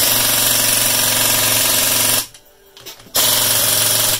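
A Cornwell and Ingersoll Rand pneumatic impact wrench hammers loudly at close range while a Yamaha Grizzly 700 is worked on. One long rattling burst cuts out for about a second, then a second burst follows.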